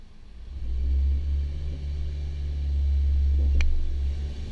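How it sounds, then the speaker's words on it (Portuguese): Chevrolet Cruze LT with a turbo engine and Honda Civic Sport accelerating together up to 80 km/h, a steady close, loud engine drone that swells gradually with no talking. "nós vamos acelerar os dois veículos simultaneamente até 80 km por hora"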